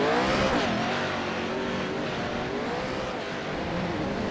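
Toyota off-road race truck climbing a hill out of turn one at Wild West Motorsports, engine droning loudly and continuously with rising and falling pitch as it pulls through the corner.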